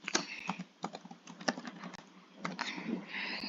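Rapid, steady typing on a computer keyboard while entering accounting figures: a close, continuous run of clattering keystrokes over a faint background hiss.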